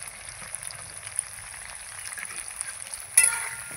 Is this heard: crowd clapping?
no